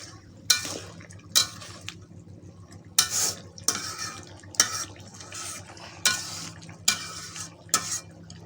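Eid meat cooks in a pot over a clay stove outdoors, with repeated metal spoon scrapes and clanks against the pot at a loose, roughly regular rhythm over a quiet simmering background.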